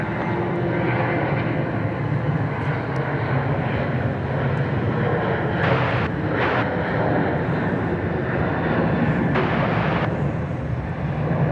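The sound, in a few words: airplanes taking off at Dallas Love Field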